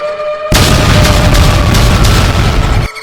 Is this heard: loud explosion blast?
yes